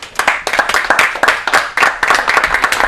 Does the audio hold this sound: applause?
yes